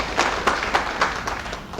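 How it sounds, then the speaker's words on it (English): An audience at a formal function claps briefly, a scattered series of hand claps with uneven spacing, moderately loud and close, with no talk over it. "Please clap for that."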